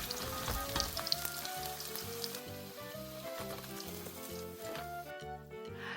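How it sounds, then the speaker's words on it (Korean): Small snack pieces for a crisp glazed treat deep-fry in about a cup of oil, a continuous close sizzle and crackle with faint pulsing beneath. "조금씩 튀긴 후에 마지막에 같이 섞어서 한 번 더 볶듯이 튀기시면 더 바삭합니다"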